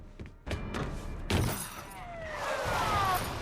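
Glass shattering in the Alan Wake video game, a sudden crash and spray of breaking shards mixed with thuds and game noise, followed by a lingering ringing tone.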